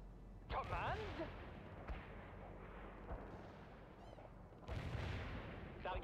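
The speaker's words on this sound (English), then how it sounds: "Coordinates hit by our mortar barrage." Mortar barrage explosions in the video game World in Conflict, two heavy booming impacts near the start and end with rumbling decay between, under faint game radio chatter.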